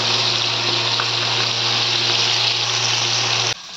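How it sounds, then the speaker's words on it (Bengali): Pieces of rohu fish fry in hot oil, a loud, close, continuous sizzle over a steady low hum, stopping abruptly at the end. "এখানে মাছ ভাজা বসিয়ে দিয়েছি"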